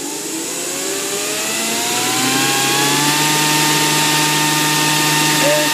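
A 2012 Toyota Land Cruiser engine revs steadily upward toward high RPM, its pitch rising continuously in a loud, close, unbroken drone with no talk.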